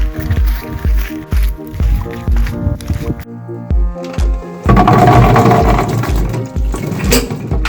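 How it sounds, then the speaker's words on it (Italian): A homemade DIY olive-crushing device works in rhythmic thuds and squishy knocks, repeated steadily, with a brief pause before a denser, louder stretch of crushing and crunching. "Ecco il nostro sistema artigianale fai da te per schiacciare le olive."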